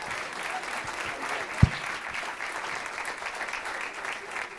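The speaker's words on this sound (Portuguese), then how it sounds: "recebam com um forte aplauso Marco Marques!" Applause from a comedy stand-up show audience welcoming a comedian on stage, a soft, distant, steady patter of clapping with one sharp thump partway through.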